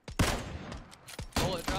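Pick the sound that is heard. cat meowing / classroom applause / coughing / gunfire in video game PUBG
gunfire in video game PUBG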